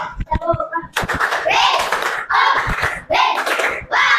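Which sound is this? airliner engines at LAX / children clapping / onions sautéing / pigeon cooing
children clapping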